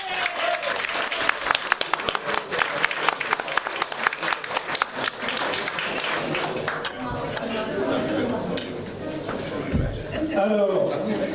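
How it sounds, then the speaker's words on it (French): A crowd applauds children at a Jeune Marche Saint Pierre glass-breaking ceremony, dense clapping swelling then thinning into chatter, with a voice talking over the end. "je voudrais que tout le monde vous applaudisse"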